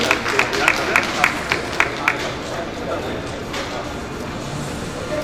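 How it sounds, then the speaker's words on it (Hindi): Applause from an audience at an awards ceremony in Raipur, a steady wash of clapping with a few sharper claps standing out early on, moderately loud, while speech and crowd murmur run underneath throughout. "जोरदार तालियां हो जाएं"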